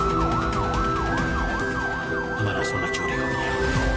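A fake police siren wails continuously, its rising and falling tone cycling steadily and loud throughout, with a second higher steady tone joining partway and traffic-like rumble underneath.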